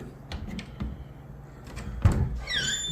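A wooden wardrobe door in a hotel room in Lapu-Lapu, Cebu, is worked open: soft knocks and clicks, a firmer thud, then a high squeaky creak at the end, all at close range.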